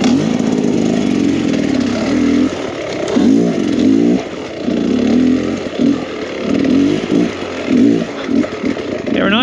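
Enduro motorcycle on street tires riding a dirt trail, its engine revving loud and close in repeated surging bursts as the throttle rises and falls, with a steady buzzing drone throughout.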